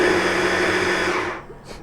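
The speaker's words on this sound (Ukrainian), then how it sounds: "попробуємо сьогодні цибулю подрібним блендером" A blender chopping onion whirs loudly and steadily for over a second, then cuts out, leaving a brief softer rattle at the end.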